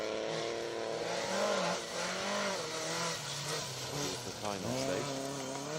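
Rally car at the Conwy Cambrian Rally on a 3.9 mile stage winding around a lake, its engine rising and falling through rev sweeps and gear changes, close and loud under a commentator's voice.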